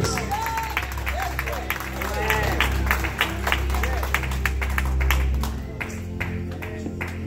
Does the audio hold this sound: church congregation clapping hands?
yes